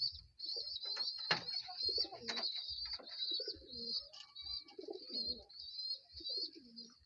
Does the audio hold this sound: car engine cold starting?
no